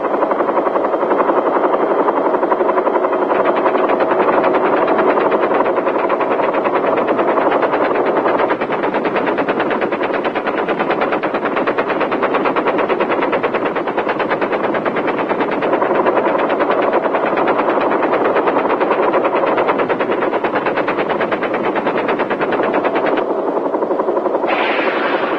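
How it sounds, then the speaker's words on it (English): A military helicopter firing machine guns over Vietnam, sustained rapid gunfire rattling loud and close above the heavy throb of rotors for the whole stretch, with no pauses. "Firing is normally broken off about 500 yards from the enemy so that the helicopter does not have to overfly the target."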